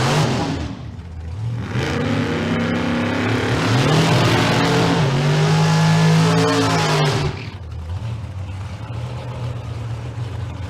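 Drag racing cars, including an El Camino in the door car class, launch and accelerate hard, their engines roaring loud and rising through the gears for several seconds before dropping away into a lower rumble.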